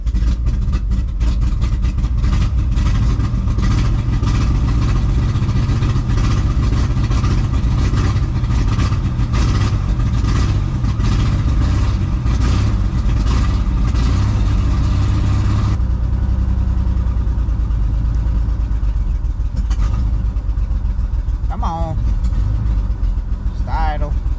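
An engine runs steadily after being primed, with a pretty bad exhaust leak, a loud continuous rumble that carries on throughout, changing character partway through with some faint higher squeaks near the end.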